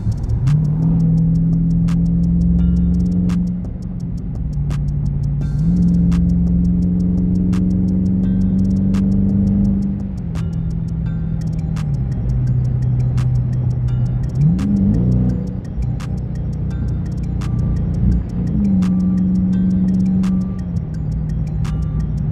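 A 2021 Dodge Charger 392 Scatpack Widebody in track mode, its V8 engine revving and accelerating through several gear changes. The loud, close engine note rises and drops repeatedly with a steady ticking alongside.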